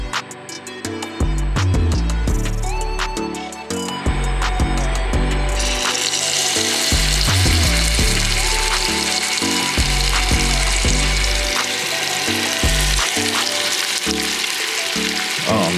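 Beef short ribs sear in a hot pan, a loud steady sizzle with crackle and bumps of pan handling, continuous and close throughout with music-like tones underneath, no talk.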